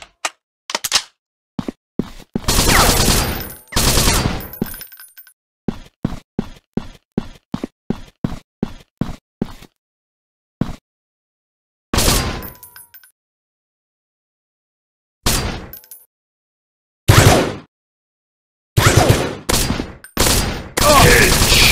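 Gunfire in a mobile animal hunting game: loud, punchy shots, first single cracks, then quick rhythmic bursts, then sparse shots split by silent gaps.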